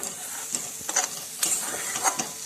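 Egg bhurji is stirred in a pan, a close, soft hissing sizzle with a few quick spatula scrapes keeping the scrambled egg from sticking.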